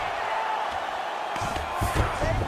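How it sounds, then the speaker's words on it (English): Crowd cheering rises in an arena during a fight in EA Sports UFC 5, a broad roar that swells midway with scattered shouts and thuds, under steady background noise. "the crowd pops in appreciation as the fighters work their way back"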